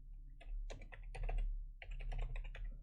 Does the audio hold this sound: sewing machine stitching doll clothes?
no